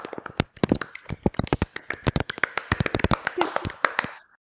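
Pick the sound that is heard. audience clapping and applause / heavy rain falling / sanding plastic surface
audience clapping and applause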